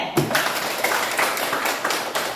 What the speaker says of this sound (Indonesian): kita kasih aplaus untuk kelompok C